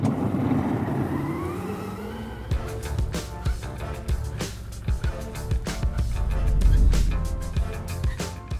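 An 800cc quad ATV engine drives along a flat road, a steady motor drone with wind buffeting the microphone and a rising surge near the end, no talk.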